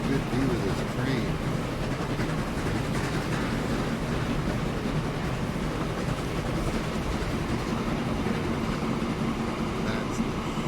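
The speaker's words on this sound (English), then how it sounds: "Get a good view of this train." A train in Transport Fever 2 rolls past in a steady, loud rumble with faint rail clatter, continuing without a break, and someone speaks briefly over it.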